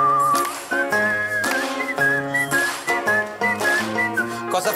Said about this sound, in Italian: c'è qualcuno che fischietta con questa musichetta